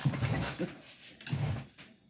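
A dog pants in quick, close bursts broken by thin whimpers, two clusters of breathy sound with a brief pause between them, with no talking.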